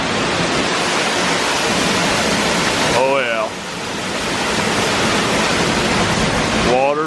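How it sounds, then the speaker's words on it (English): Broadband roar of waterfalls at Ferne Clyffe State Park on New Year's Eve, steady and loud throughout, with a person speaking briefly over the rushing water. "Waterfalls, waterfalls."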